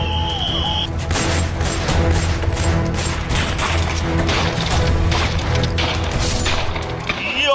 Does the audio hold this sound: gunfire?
yes